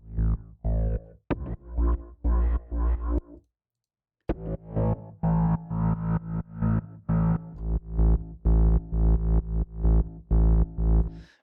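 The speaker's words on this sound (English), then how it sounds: "Right, but because the bass sustains, which are all just waveforms, they just sound like this." Sustained waveform synth bass from the FERRUM sample instrument, played as loud, distorted, buzzy pulses in a rhythmic run, broken by a short silence before the pattern resumes.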